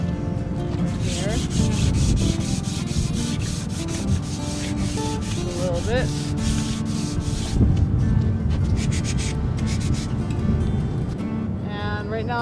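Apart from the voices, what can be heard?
sanding wood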